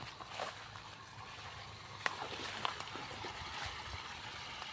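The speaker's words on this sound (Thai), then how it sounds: "เสียงน้ำไหลอีก" Steady, low-level rushing of water flowing into a rice paddy fills the whole stretch, with a couple of faint clicks, and no talking.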